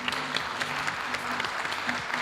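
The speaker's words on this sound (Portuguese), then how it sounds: "Quero-vos celebrar assim com um grande aplauso para as duas." A small group applauds two podcast guests in a Portuguese-language episode, a brief burst of close, rapid clapping with voices talking beneath it.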